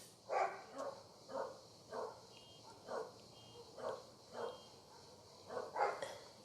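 A dog barks about nine times in an even, moderately paced series, fairly close but not loud, over a faint background hiss of insects.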